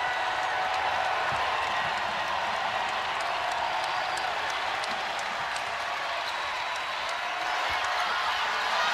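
A basketball arena crowd at a Marquette versus UConn game rises and applauds, a steady, dense wash of clapping and cheering that holds evenly loud throughout with no break.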